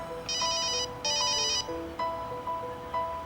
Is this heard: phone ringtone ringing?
yes